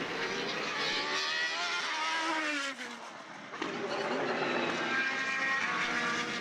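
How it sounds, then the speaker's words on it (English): Formula BOSS single-seater race cars scream past at Mondello Park, high engine notes rising and falling through gear changes, with a brief dip as one car passes and another follows close behind. "here comes Paul O'Connell through Tarzan 1 and 2 for the last time in this race"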